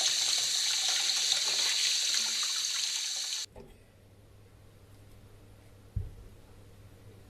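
A kitchen tap runs loudly for a few seconds to rinse a big turnip, a broad steady hiss that stops abruptly, leaving low room hum and a single faint knock.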